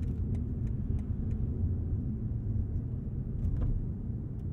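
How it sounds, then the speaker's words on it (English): Cabin of a Carbahn-tuned BMW M8 Competition coupe while driving, with a low, steady engine hum and road rumble in the background, faint and continuous with occasional small clicks and no talk. "The engine still hums along sweetly in the background."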